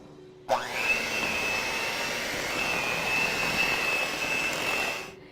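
Electric mixer starting abruptly and whirring at a steady high-pitched drone, blending pumpkin cheesecake batter with ginger and flour, running close and alone for several seconds before easing off.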